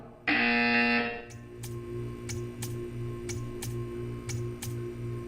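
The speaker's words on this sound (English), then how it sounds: "You will hear a buzzer." A loud electronic buzzer in the game Portal 2 blares for about a second, then a steady ticking pulses over a low hum.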